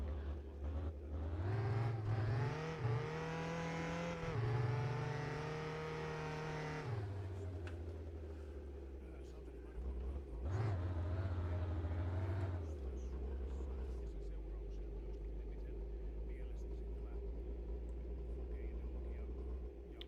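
A truck engine in the driving game My Winter Car drones low and steady, revving up in a few swells before settling back to a rumbling idle.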